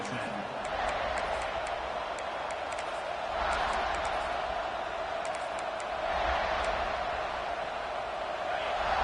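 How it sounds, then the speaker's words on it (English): A college football stadium crowd roaring after a punt return, a dense, sustained wall of noise that swells in waves with scattered whistles and shouts, loud and enveloping throughout. "This crowd, full throat, splitting the eardrums and letting them know it's going to be a long day"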